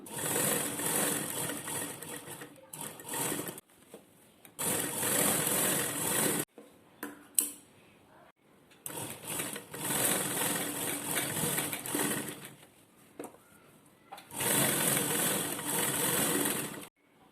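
A sewing machine stitches a lined jacket in several long runs of fast, steady whirring, separated by brief pauses and a few faint handling clicks, close and fairly loud.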